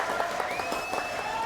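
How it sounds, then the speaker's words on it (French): A TV studio audience applauds a guest, a steady, moderately loud wash of clapping with a faint tonal whine running beneath it. "applaudissements"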